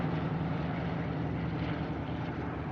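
A single-engine UC-64 Norseman propeller aircraft in flight gives off a continuous, even engine drone that stays loud and unbroken throughout.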